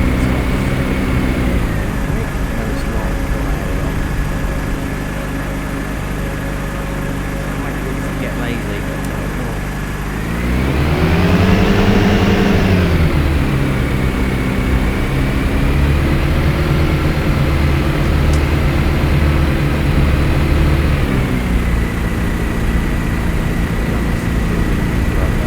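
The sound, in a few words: aircraft engine taxiing, from a flight simulator video game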